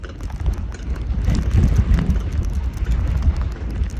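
Heavy wind buffeting the microphone on an alpine coaster in Scotland, a low rumbling roar that swells and persists for several seconds with no clear talk.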